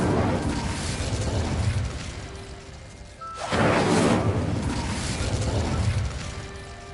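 Incendio fire spell cast in Hogwarts Legacy: a roaring fiery rush fills the scene, with a sharp flaring burst midway and a sustained crackling blaze before and after.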